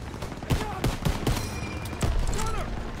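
Gunfire from a Call of Duty: WWII battle aimed at an MG-42 nest pounds in several heavy, closely spaced shots over a continuous rumble of combat, with voices shouting orders.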